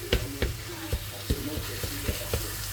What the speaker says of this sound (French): Et on va mélanger tout ça, on va laisser cuire